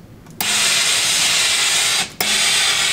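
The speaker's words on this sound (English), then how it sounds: "We have some great steam irons in the labs." A steam iron releases long, steady hissing bursts of steam onto wool, loud and close, with one brief pause partway through.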